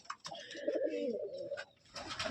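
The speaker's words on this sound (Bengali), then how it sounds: "এজোড়া সুইটি কবুতর আছে, যা সাদা সুইটি।" A pair of white Sweety pigeons coos up close in a few throaty rolling phrases, with brief gaps between calls.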